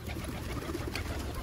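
Pigeons coo steadily at close range while pecking at grain soaked in water for two days, a dense continuous murmur of soft calls with no talking.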